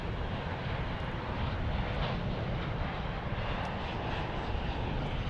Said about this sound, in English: here's our Alaska 737-800, arriving on runway 18 right from Portland, Oregon